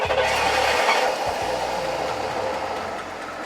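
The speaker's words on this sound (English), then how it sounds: "The sort of humming sound you hear was the vacuum pump." Vacuum pump on a GMC motorhome hums steadily at close range, a continuous low drone with a broadband whirr that dips briefly and then settles a little quieter.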